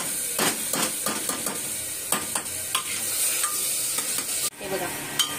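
Chopped onion and tomato sauté in a pan for chole masala, with repeated scraping stirs of a spatula over a continuous close sizzle, plus one sharper knock near the end.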